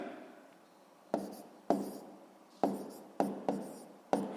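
Pen strokes write numbers for a long-division problem in a sixth-grade maths exercise: six or seven short, close scratching bursts come at uneven intervals over quiet room tone, with no talking.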